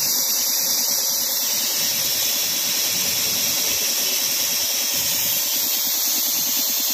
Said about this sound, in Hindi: डबल पिस्टन का कंप्रेसर है, एक एचपी का गोदरेज का मोटर है